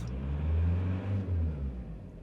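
A VW TDI diesel engine with a P2196/P0101 fault is given a short rev, a loud close low rumble swelling and easing back twice over a couple of seconds, alone.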